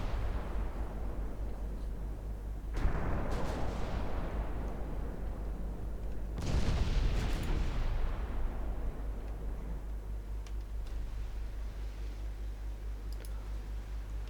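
Naval main guns firing at distant targets in the Norwegian Campaign 1965 war game: two heavy broadband booms a few seconds apart, each decaying into a long rumbling roll over a steady low engine drone, with no talk.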